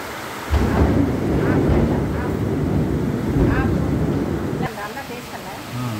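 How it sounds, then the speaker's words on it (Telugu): A thunderstorm with a sudden downpour makes a steady, loud roar of rain and rumbling that lasts the whole stretch, easing slightly near the end. "ఉరుములు మెరుపులతో వస్తుంది, ఉన్నట్లుండి వచ్చిందండి వాన అనేది"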